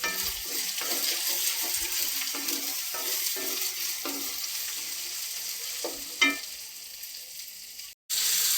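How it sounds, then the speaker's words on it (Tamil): Onions frying in a pan for chicken curry give a loud, steady hiss close by, broken by periodic stirring scrapes, one sharper clatter and a brief dropout near the end, with no talk. "வெங்காயம் வதங்கணும்."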